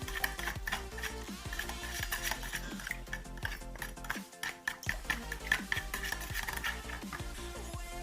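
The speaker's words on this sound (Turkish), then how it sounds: "2 çay kaşığı tuzumuzu da ve bunları şöyle bir çırpalım." A whisk clatters fast against a bowl as salt is beaten into sugar and other ingredients for soft cornbread. The metallic clinking is busy, continuous and close, with a short pause partway through.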